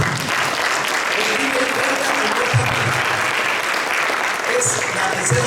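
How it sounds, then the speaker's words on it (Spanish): Church congregation applauding at a Spanish-language Sunday service in Beaverton, Oregon, steady, full clapping throughout with some voices audible underneath. "¿cuánto le dan un aplauso al Espíritu Santo?"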